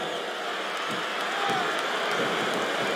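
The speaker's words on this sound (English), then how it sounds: "I love hearing the crowd come alive" A crowd in the WWE SmackDown vs. Raw 2007 wrestling game roars and applauds as a steady, dense wash of noise that holds throughout the clip.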